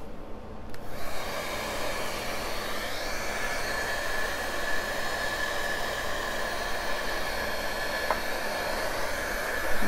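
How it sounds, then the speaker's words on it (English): A hair dryer blows continuously at close range, a steady whooshing roar with a faint whine, running without pause throughout. "I'm going to hit it real quick with the hair dryer"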